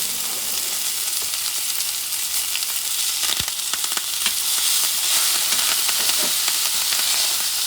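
Scallops searing in hot butter with fresh thyme, a steady close crackling sizzle with scattered sharp pops and spatters throughout, no voices.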